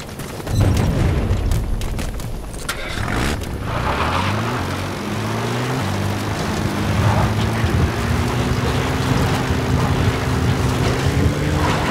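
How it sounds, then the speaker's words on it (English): In Metal Gear Solid V: The Phantom Pain, a support helicopter's rotor and engine drone steadily with a rising whine, loud and close, after an initial rumbling thud. "Support helicopter has arrived."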